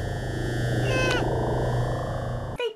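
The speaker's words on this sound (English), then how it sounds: "A cat." A cat meows once or twice, brief and fairly faint, over a steady low hum and background music in a comedic medical scene.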